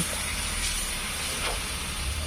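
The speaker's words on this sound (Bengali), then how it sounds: "কড়াই দিয়ে দিচ্ছি গরম জল" Hot water poured into a hot cooking pan of fried spice masala, giving a steady, loud steaming hiss that holds evenly throughout, with no voices over it.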